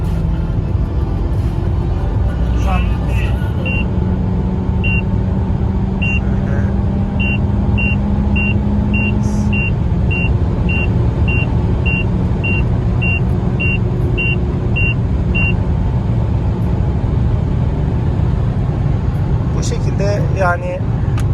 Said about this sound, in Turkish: Hatta belki ufaktan da bir ara hızlanma yapalım.